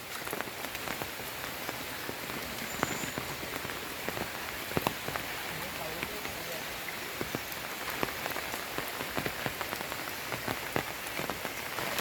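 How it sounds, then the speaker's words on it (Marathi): Heavy monsoon rain pours down in a Konkan village near Rajapur, where a swollen river is flooding. A dense, steady hiss of drops beats on surfaces throughout, close and unbroken, with no voices. "पाऊस काय थांबायचं नाव घेत नाही आहे"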